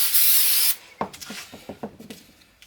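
CA glue activator is sprayed onto a part for a guitar stand, making a short, close hiss that is followed by a few light taps and handling knocks.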